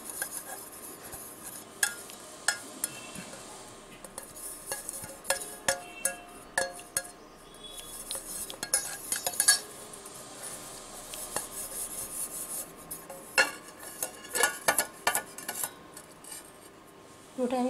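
A spoon scrapes and rubs mustard oil around the inside of a metal tiffin box, giving faint, irregular clinks and rasping strokes that repeat close by in an otherwise quiet kitchen.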